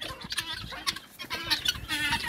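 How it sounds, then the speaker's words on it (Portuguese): Chickens and a rooster on a rural smallholding cluck steadily in a busy, overlapping chorus, close by and continuous throughout. "Tem um galo que tá preso ali,"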